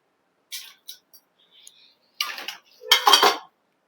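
A cooking ladle and pots clatter in a home kitchen in a few short, sharp metallic bursts, with quiet gaps between them and a louder cluster near the end.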